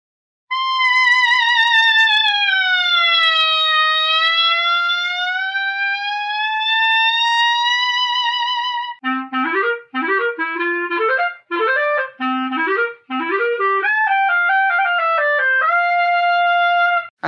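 A bamboo-reed clarinet mouthpiece blown on its own, detached from the instrument, gives a loud, bright, squawking wail that bends slowly up and down, then breaks into quick choppy bursts of pitched notes ending on a held tone, with no talking.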